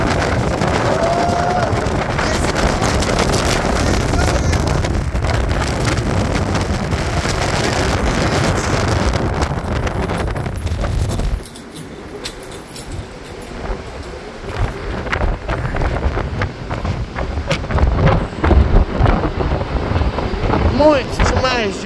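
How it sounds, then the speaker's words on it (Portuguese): Strong wind gusting over the sea in Miami with waves rolling in, a loud continuous roar buffeting the microphone, easing briefly partway through before building again, with a person speaking over it. "Olha, muito, muito vento"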